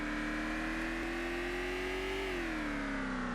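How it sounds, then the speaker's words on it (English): A car engine in the video game VEIN revs steadily, a loud continuous whirring drone with a slight pitch rise and dip, heard alone without talk. "This sounds like a GTA car noise."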